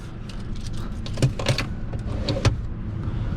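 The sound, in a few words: unlocking and entering a Mercedes GLA car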